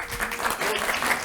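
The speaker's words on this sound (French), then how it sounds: "On va applaudir les deux musiciens." Short burst of audience applause for two musicians, a drummer and a pianist, at a prayer gathering, moderately distant clapping with no voices over it.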